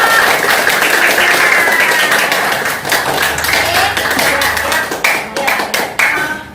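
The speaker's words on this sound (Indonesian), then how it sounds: "tepuk tangan untuk Naomi semuanya" A primary-school classroom claps for a student named Naomi, loud close clapping from many children that stays strong for several seconds and then breaks into scattered, uneven claps toward the end.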